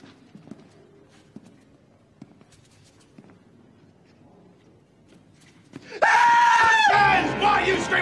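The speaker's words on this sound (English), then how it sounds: "Why are you screaming like a goddamn little girl?" A man screams loudly in a comedy film scene, a sudden sustained wailing cry bursting in near the end after quieter shuffling and faint background sounds.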